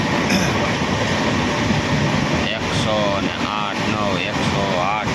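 Rumbling of a moving passenger train with steady rolling noise, faint squeals, and people talking in the background.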